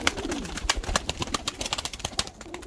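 A female Ottoman Hünkari pigeon with a front crest coos softly and repeatedly at close range, mixed with sharp clicks and rustling from the bird and its box.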